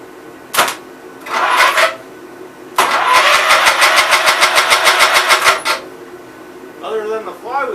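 The original engine of a 1969 Gravely 432 tractor is cranked with the starter. A few short, loud starter bursts come first, then a longer rhythmic cranking run of about three seconds, then a brief final crank.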